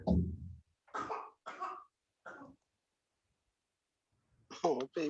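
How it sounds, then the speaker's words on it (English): A baby gives a few short coughs close up. Quiet pauses follow, then a voice speaks. "Oh, baby cough."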